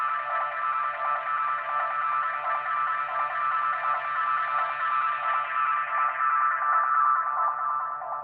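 Echo Boy echo plugin applied to a sound in a studio, a bright, buzzy sustained tone repeating with rhythmic echoing pulses that slowly drift lower in pitch, loud and alone.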